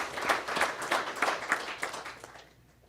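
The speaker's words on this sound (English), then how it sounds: "give her a round of applause" An audience at a school board of education meeting claps in a round of applause, moderately loud and steady with a slightly rhythmic pulse, then fades out toward the end.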